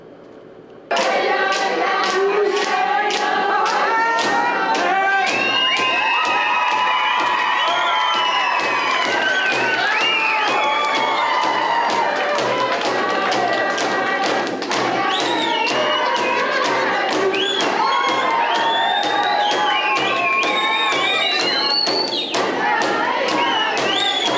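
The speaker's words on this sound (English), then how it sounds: "once he took to the floor, the crowd erupted" A community crowd in Tuk cheers, whoops and claps loudly and continuously while Jordan Tootoo dances on the floor, with rhythmic thumps and taps running through the sustained roar.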